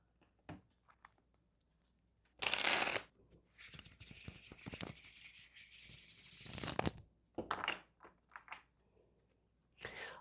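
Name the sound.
shuffling tarot cards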